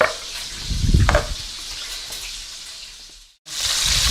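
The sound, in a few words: bacon frying and crisping in a pan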